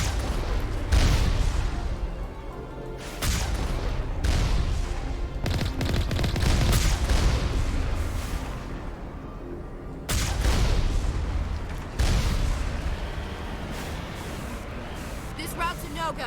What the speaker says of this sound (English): Geth turrets.